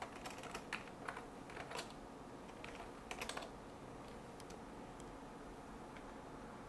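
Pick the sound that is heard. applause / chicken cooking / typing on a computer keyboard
typing on a computer keyboard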